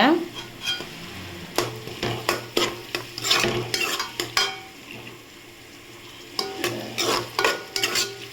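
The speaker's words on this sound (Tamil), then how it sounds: "தக்காளி சேர்த்து நல்லா வதக்கிக்கோங்க" Tomatoes and onions sautéing in a pan as the base for a beef curry, a spatula stirring and clattering against the metal in bursts over a steady sizzle, with short quieter pauses between strokes.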